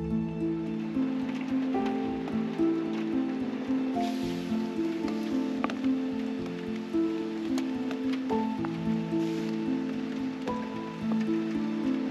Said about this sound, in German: Dauerregen bis jetzt in die Morgenstunden.